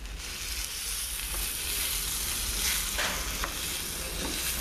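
Shiitake mushroom and tomato risotto is stirred in a pan on the stove, a dense close sizzle with occasional spoon scrapes and clicks, even in loudness and free of speech.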